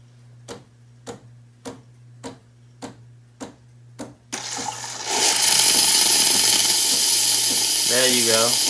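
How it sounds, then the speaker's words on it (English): The steam wand on a Breville 870XL espresso machine ticks steadily for several beats, then bursts into a loud, continuous hiss of released steam that keeps going, with a brief voice near the end. "let's try it right now to see if the steam is coming out"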